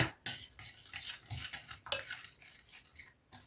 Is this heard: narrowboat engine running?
no